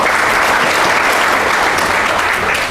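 At an international arbitration seminar, the audience gives loud, sustained applause. The clapping is thick and even from start to finish and fades slightly at the very end.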